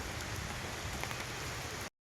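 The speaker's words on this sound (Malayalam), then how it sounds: "എത്തുമ്പോഴത്തേക്കന്നെ നല്ല മഴ" Rain falls steadily in a dense, even patter, close by, for a couple of seconds before cutting off abruptly, on a trip to a waterfall in Kasaragod.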